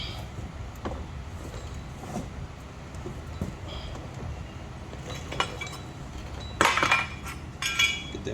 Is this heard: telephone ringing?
no